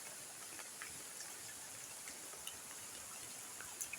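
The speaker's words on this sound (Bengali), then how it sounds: "আজকে এত পরিমাণে বৃষ্টি, জানি না বৃষ্টি কবে থামে" Steady heavy rain pours down in a dense, even hiss, with scattered louder drops striking nearby surfaces; no voices.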